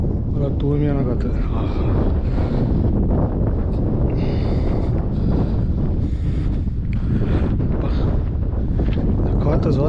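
Strong wind on the Al Qfair mountain trail in Fujairah buffets the microphone in a steady, loud roar throughout, with a voice talking faintly beneath the rumbling gusts.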